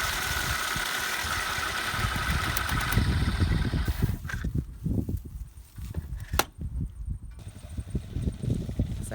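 A farm vehicle engine runs steadily nearby as it drives along winding up electric fence tape on an Australian beef cattle farm, a rumbling drone with some clatter.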